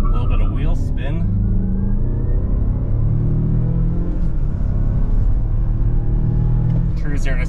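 2025 Mazda turbo SUV launching from a brake rev with a little wheel spin, a loud engine roar swelling as it pulls away, with someone talking over the noise.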